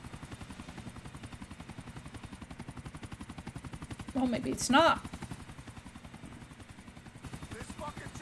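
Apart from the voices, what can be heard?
helicopter in the video game Grand Theft Auto IV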